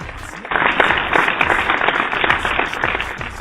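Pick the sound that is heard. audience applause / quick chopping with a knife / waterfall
audience applause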